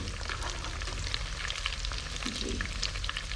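Macaroni bread rolls deep frying in hot oil give off a steady, dense sizzle with fine crackling pops, close and continuous throughout with no voices.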